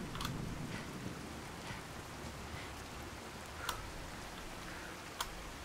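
Steady rain in the video game Fallout 4, a soft even hiss with faint thunder rumbles and a few sharp ticking clicks, no voices.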